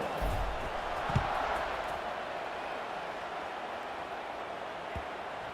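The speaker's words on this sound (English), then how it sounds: "this crowd is buzzing after that last score" A stadium crowd buzzing in the video game College Football 26 during a Kent State vs. Rice game, a broad steady roar with a few thuds, moderately loud and continuous with no talking.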